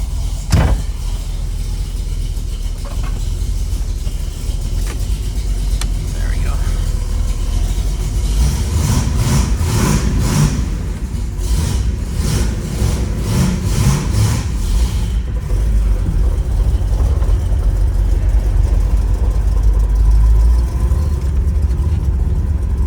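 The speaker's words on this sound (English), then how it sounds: "might have just a little bit of a exhaust leak" A 1969 Chevrolet Chevelle 396 engine idles steadily for a long stretch, a low rumbling drone with a faint rhythmic ticking puff from a small exhaust leak.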